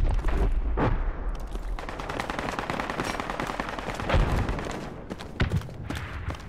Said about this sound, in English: What's all the shooting?